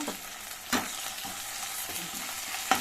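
Fried onions with garlic paste sizzle steadily in a pan for tomato curry, a close, even frying hiss with a few spatula scrapes and taps spaced through it, no voices.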